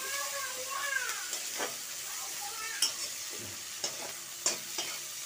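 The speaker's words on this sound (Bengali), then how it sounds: "পেঁয়াজটা ভাজা ভাজা হয়ে গেছে" Chopped onions fry in a pan for a fish curry, a steady soft sizzle punctuated by several sharp scraping stirs of a spatula, fairly close and quiet.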